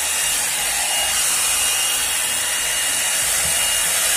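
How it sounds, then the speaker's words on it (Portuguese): An Avon 3-in-1 hot air brush hair dryer runs close by with a constant, loud, airy whir and hiss, steady throughout with no talking. "É o barulho de secador."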